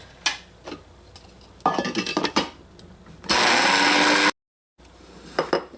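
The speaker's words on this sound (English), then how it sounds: "fill my spice blender with my Jeera and start blending" Short bursts of a spice grinder whirring through roasted cumin seeds, then a loud continuous grinding buzz that cuts off abruptly, followed by a few rattles and knocks.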